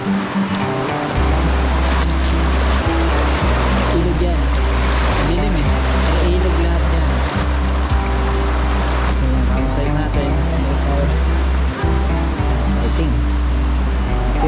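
Steady rushing water flows continuously throughout, with people talking over it and a low rumble underneath.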